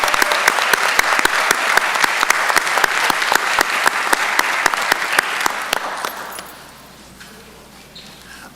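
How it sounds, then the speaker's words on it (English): Audience at a county board of commissioners meeting gives a round of applause for young people, with many hands clapping and sharp individual claps standing out before the sound fades to quiet room tone near the end. "Let's give the young people another round of applause."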